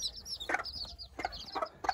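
Aztec chicks peep in quick high chirps, several close together with some softer ones in the background, quiet and close, with no talking.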